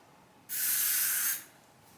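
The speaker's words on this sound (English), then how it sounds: "I'm going to try the other spray on this side and see how that works." Hair spray hisses from a spray bottle onto frizzy hair in one steady burst of just under a second, close and alone against quiet.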